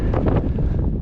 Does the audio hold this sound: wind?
yes